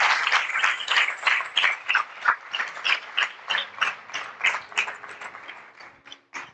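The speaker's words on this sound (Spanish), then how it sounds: "Denle el aplauso a Jesucristo" A church congregation applauds during a sermon, loud rhythmic clapping in distinct pulsing waves, close and alone with no talk over it.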